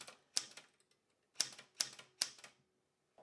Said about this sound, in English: here's the switch to go from black and red on the ink ribbon